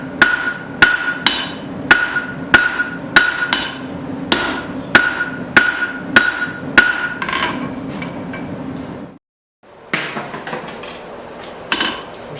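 A hammer strikes a horseshoe on an anvil while forging a long taper, landing a steady run of sharp, ringing metallic blows close up, then a brief pause before a few more hits.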